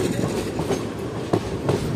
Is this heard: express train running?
yes